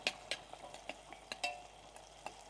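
Onions frying in hot oil in a home kitchen, a soft steady sizzle broken by repeated light clicks of a utensil stirring, quiet and close with no talk.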